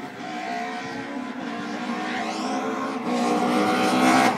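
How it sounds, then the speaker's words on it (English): A Ford Escort rally car on a rally stage at New Brighton, its engine note droning steadily and then rising in pitch and loudness as it accelerates, moderately distant with a continuous roar and no talking. "Martin Hodgson in a very tidy and extremely well driven Escort"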